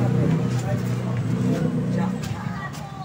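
Two motorized tricycles idle and rev nearby in a steady, rumbling drone, with voices chattering underneath throughout.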